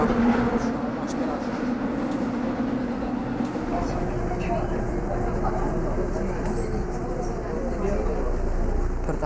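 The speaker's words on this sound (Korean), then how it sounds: "서둘러 종로 3가로 가는 지하철에 올랐습니다." Subway train ride toward Jongno 3-ga station in Seoul, a steady loud rumble of the carriage on rails with rattling and hiss throughout, people talking faintly under the running noise.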